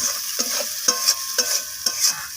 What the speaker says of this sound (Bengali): চিনিটা দিয়ে এইভাবে আমি কষিয়ে নিচ্ছি